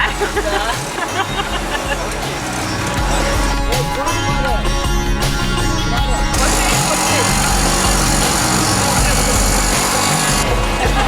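Auto rickshaw rattling through busy Chennai streets, its engine droning loud and steady for the whole stretch amid traffic noise and a dense hubbub of voices and background music.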